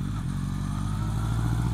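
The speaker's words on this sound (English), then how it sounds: "That does sound like an exhaust leak, doesn't it?" A 1982 Kawasaki KZ750 LTD motorcycle engine with an exhaust leak runs close by, a steady low rumble with a ticking, puffing clatter over the idle and no talking.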